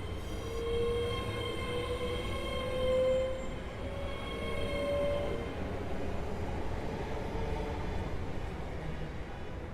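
An electric train pulls away from a station platform on the West Coast Main Line Trent Valley route in Train Sim World 6. Its motor whine climbs steadily in pitch over a rolling rumble of wheels, loud and close throughout, with no talking.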